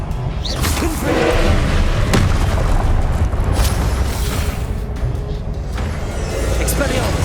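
A Confringo fire spell explodes in the Hogwarts Legacy game, giving dense booming thuds amid continuous loud battle noise, with a voice calling out spell names over the clatter.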